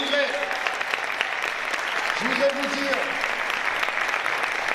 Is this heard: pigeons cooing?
no